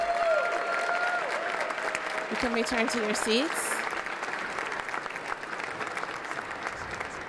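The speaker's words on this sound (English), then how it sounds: "Let's give our final row and all those not with us a final round of applause." Sustained audience applause for honorees at a Black Excellence on the Hill ceremony, steady broadband clapping filling the room while an announcer talks over it.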